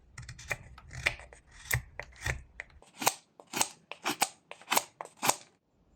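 A knife whittles wood in a paring cut, making a series of close, crisp scraping and slicing strokes in an irregular rhythm, quiet and alone.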